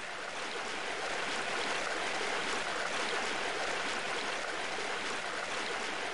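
A rushing waterfall in a video game map sounds as a steady, even broadband wash of falling water, continuous and moderately loud, with no voices over it.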